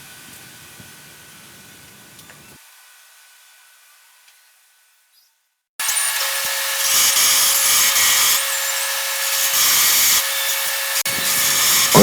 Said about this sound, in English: This is a vertical bandsaw.